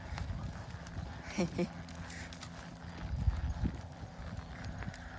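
A horse gallops at Parque Guarani, its hooves beating a quick, uneven clip-clop rhythm at moderate distance while people talk nearby.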